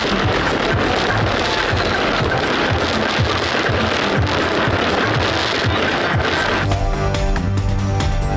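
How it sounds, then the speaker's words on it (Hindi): Dense, continuous crackling and popping from a New Year's fireworks display at midnight over Karachi, loud and unbroken throughout, with a shift to a sparser, more tonal texture in the final seconds. "रोशनियों के शहर कराची में रात 12 बजते ही शानदार आतिशबाजी का मुजाहरा किया गया।"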